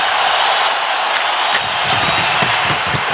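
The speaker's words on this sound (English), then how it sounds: "Listen to the crowd." Packed hockey arena crowd during a New York Rangers versus Philadelphia Flyers game, a loud, continuous roar of cheering with scattered whoops and claps rising above the steady din.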